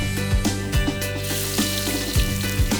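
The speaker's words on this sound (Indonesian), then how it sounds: "kita tumis bumbu yang sudah dihaluskan tadi. Tambahkan juga daun salamnya." A ground spice paste with bay leaves sautés in hot oil in an East Javanese kitchen in Ngawi. A steady close sizzle runs throughout, broken by a few soft knocks of a utensil.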